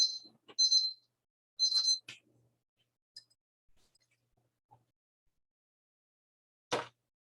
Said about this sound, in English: All right, the timer has gone off.